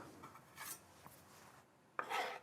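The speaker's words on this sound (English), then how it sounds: "Let me chop it a little more" A knife chopping scallions on a cutting board, a few soft scattered taps and scraping rubs ending in a sharper, louder cut, close and quiet with no talking.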